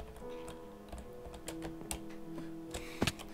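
Computer keyboard keys clicking during a Minecraft parkour session, a steady patter of close, fairly quiet taps with a couple of sharper presses near the end, no talking.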